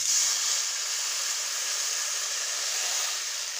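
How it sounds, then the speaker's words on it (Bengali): Water poured into a pan of hot fried spices while making a Bengali egg and new potato dum aloo, a steady loud hiss and sizzle of steam that holds evenly throughout with no talk. "এবার আমি জল অ্যাড করে দিচ্ছি।"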